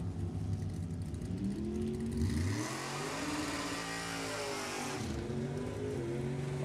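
Two drag race cars, a 27T Brogy and a 27T roadster, roar past one after another at a race club, engines rising and falling in pitch as they pass at a distance, with a steady loud engine drone underneath.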